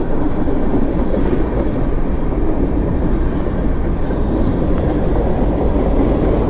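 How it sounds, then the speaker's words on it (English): A train on the rail line passes close by outdoors on a sunny day, giving a steady, loud rumbling roar with a wheel clatter that carries on throughout, with no talking. "See a train?"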